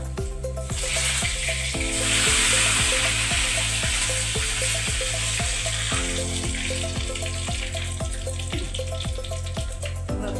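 Curry leaves hit hot coconut oil already crackling with mustard seeds, giving a steady, close sizzling hiss that swells after the first seconds and runs on under background music.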